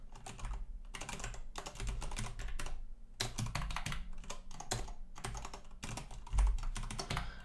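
Continuous typing on a computer keyboard while writing compiler code, steady quick keystrokes in bursts separated by short pauses, close and fairly quiet with no talking.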